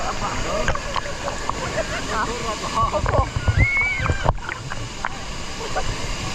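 Waterfall splashing during canyoning at Kawasan Falls in Cebu, Philippines: a constant rushing, sloshing water roar close by, with excited voices and shouts over it.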